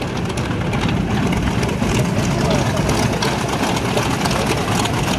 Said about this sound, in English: Those beautiful round engines.